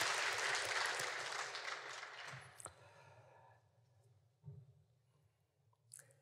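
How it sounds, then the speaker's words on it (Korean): A church congregation applauds the choir and orchestra at a Sunday service. A dense burst of clapping fades over about three seconds, then isolated claps and a few faint shuffles follow over a low hum. "우리 감사와 격려의 박수 한번 드리겠습니다"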